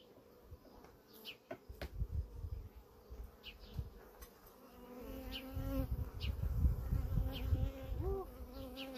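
Honeybees buzz around an open hive during an inspection with no smoke used, a dense, wavering drone with individual bees whining close past and the swarm growing louder partway through.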